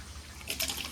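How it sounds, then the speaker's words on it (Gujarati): Water runs from a tap into a container, a faint, quiet trickle that swells into a brighter splashing stream midway through the short moment. "એના લીધે બસ પાણી ભરી લઉં લે"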